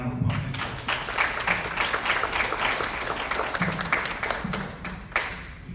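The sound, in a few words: audience applause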